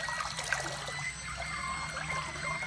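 Water is poured into a lab tank, giving a steady trickling, dribbling flow with small splashes, fairly close and alone.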